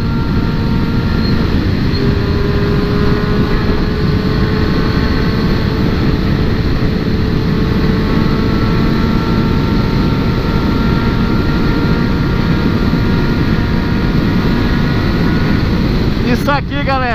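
A powerful motorcycle, billed as the strongest bike on the channel, roars loudly and steadily at speed with rising engine tones and rushing wind, while a rider talks over it throughout.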